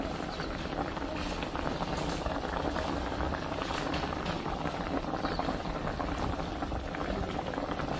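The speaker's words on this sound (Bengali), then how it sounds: "তরকারিটা দেখে এখন উতলাই আসছে" A spicy tilapia fish bhuna curry coming to a boil in a pot, with a constant, fairly quiet bubbling and gurgling over a low background hum.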